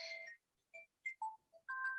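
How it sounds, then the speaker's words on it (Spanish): A telephone ringtone plays a short, bright electronic melody of separate beeping tones at varied pitches, moderately loud and alone in a quiet room. "vamos a tener que bajarle el tono a este teléfono"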